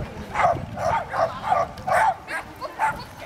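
A dog barks and yips about eight times in an uneven run, moderately close, with a low background murmur underneath.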